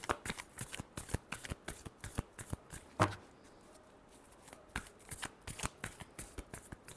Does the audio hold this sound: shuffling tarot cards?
yes